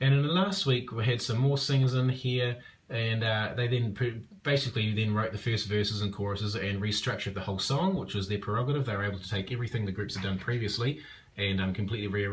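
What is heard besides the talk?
No everyday noise stands out behind the speech.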